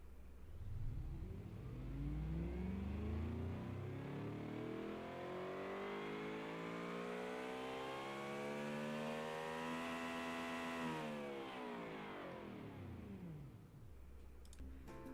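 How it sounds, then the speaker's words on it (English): A car engine from the Automation game, heard through an automatic gearbox with four gears, revving up steadily through a long climbing sweep, holding high, then dropping away, smooth and synthetic with no voices. "Now I will play the engine sound."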